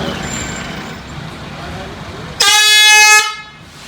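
A loud air horn blast in a scare prank cuts in abruptly over a busy noisy background and holds steady for under a second before stopping.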